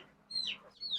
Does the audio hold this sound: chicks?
yes